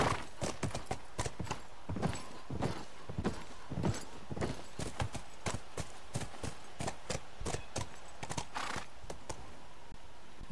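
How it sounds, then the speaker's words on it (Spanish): Horse hooves clip-clopping in a steady, close walking rhythm while riding in The Last of Us video game, with a faint neigh, sounding clear and fairly loud with little talk. "Voy con el caballo."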